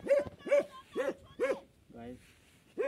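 A dog barks repeatedly in a steady rhythm of about five close, moderately loud barks, heard outdoors at a remote spot someone is exploring.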